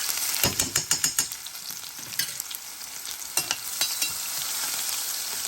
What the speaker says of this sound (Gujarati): હું એમાં લસણ 6-7 કળી વાટેલું નાખું છું